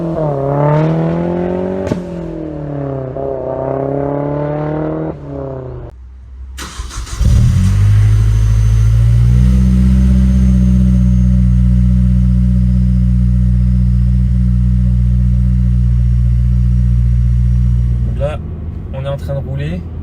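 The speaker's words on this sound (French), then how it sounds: "On est en train de rouler, on laisse la voiture tranquillement se mettre en route" A Mazda 3 MPS driving slowly and easing into motion, its engine a steady, close mid-pitched drone inside the cabin, preceded by someone talking and followed by more speech near the end.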